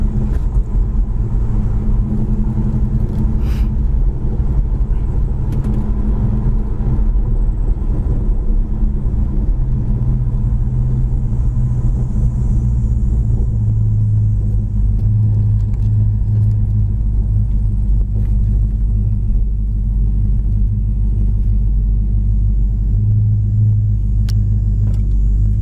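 A 1967 Plymouth Belvedere cruises down the road, its steady low engine rumble and road noise running continuously and fairly loud, with no talk over it.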